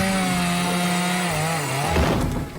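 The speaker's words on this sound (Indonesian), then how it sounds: "Squidward malah menjebol pintu masuk menggunakan gergaji mesin" A cartoon chainsaw rips through a wooden front door, a steady loud buzzing whine running continuously before breaking into rougher splintering noise near the end.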